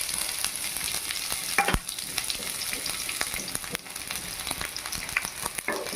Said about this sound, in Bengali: এতে আবার দিয়ে দেব কেটে রাখা পেঁয়াজ